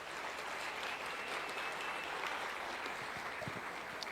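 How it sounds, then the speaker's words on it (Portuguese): An audience applauds a group of mothers at a talk on burnout, a steady wash of many hands clapping, even and sustained throughout, heard at a moderate distance with no voices over it. "Vamos dar uma salva de palmas para essas mulheres?"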